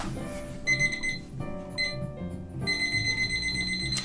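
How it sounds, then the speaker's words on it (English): An alarm clock being set gives off bright electronic beeps in three runs, with short gaps between them, heard up close and alone over a faint background. "I'm trying to set an alarm real quick"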